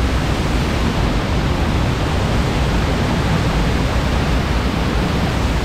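A waterfall in Bali roars steadily and loudly throughout, a dense unbroken rush of falling water with no other sounds over it.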